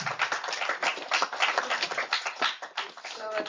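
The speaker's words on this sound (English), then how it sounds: "Please give ma'am a big round of applause." An audience at a faculty development program claps together in moderately loud, fairly dense applause that rises and falls slightly and carries on steadily for a few seconds.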